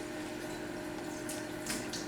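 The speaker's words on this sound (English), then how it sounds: "we're going to rinse them one more time" Distilled water runs steadily from a tap while lab glassware is rinsed, a continuous close splashing hiss with a few brighter sloshing bursts near the end.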